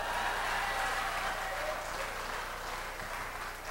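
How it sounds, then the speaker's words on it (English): Audience applause at a 1999 performance: a dense, steady wash of clapping that fills the whole stretch, fading slightly toward the end, with no voices over it. "You're supposed to clap for that."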